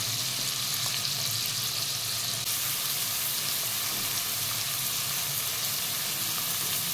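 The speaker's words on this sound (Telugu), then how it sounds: "ఎండు రొయ్యలు లైట్గా ఫ్రై అయిన తర్వాత కట్ చేసుకున్న ఆనియన్స్ని యాడ్ చేసుకుంటున్నాం." Finely chopped onions hiss and sizzle steadily in hot oil with lightly fried dry prawns in a pan, a dense continuous frying crackle close up with no voices.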